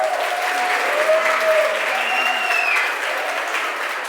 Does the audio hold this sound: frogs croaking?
no